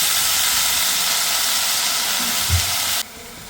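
Washed, chopped greens dropped into hot oil with fried garlic sizzle in a steady, loud hiss, a brief thump near the end as they settle, then the sizzle cuts down sharply to a quieter simmer.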